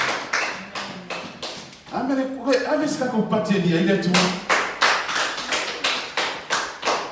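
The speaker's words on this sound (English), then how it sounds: "Why don't we just give God a praise and clap?" A church congregation claps along in steady rhythmic praise, broad slapping hand claps repeating near and loud, with a voice and sung or chanted words over the middle stretch.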